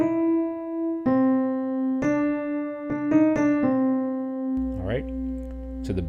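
Piano chords played one after another in a steady, unhurried sequence, each sharply struck and left ringing, with brief ornamental notes flicking in before some chords.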